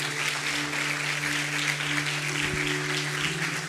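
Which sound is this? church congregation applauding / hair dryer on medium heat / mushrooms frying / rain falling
church congregation applauding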